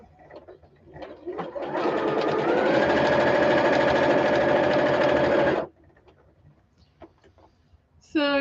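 A sewing machine quilting fabric runs in one loud continuous burst of rapid stitching for several seconds, with quiet handling sounds before and after and a brief voice at the very end.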